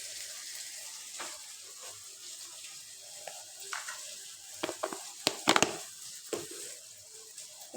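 Ghugni with cumin and coriander powder being stirred in a pan, a soft steady sizzle with scattered scraping clicks of the spoon that bunch into louder knocks near the end.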